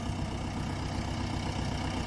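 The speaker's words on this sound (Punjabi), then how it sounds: "ਇਧਰ ਟਰੈਕਟਰ ਕੱਢ ਰਿਹਾ ਪਾਣੀ ਬਾਹਰ" A tractor engine pumping water out of a field runs steadily nearby with a low, even idling drone and constant mechanical rumble, no voices.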